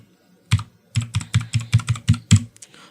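Someone types an Aadhaar number on a computer keyboard: about eight close, crisp key clicks in a quick, fairly even rhythm after a short pause, in a quiet room.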